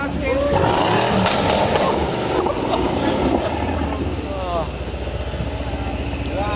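Tuned Mercedes-AMG C63 engine roaring loudly and steadily close by, with a dense, continuous rumbling drone and a few sharp crackles, no talking.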